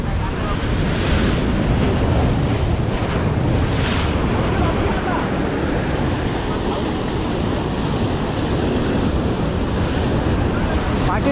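Ocean waves surge and break steadily against a rocky Ratnagiri shoreline during fishing, a loud continuous wash mixed with gusting wind buffeting the microphone, with no clear gaps between swells.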